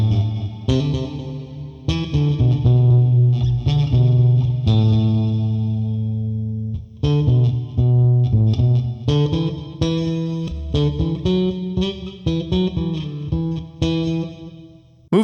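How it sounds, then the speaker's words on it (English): Bass guitar played through a Lekato Tank B multi-effects pedal with its reverb set very long, loud sustained notes and plucked phrases blooming into lingering, washy tails, with no talking. "And the reverb goes into really long territory,"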